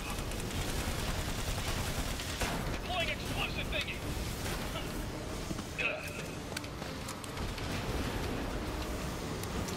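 Gunfire from the video game Battleborn, a dense stream of rapid shots mixed into busy game sound, with someone talking over it.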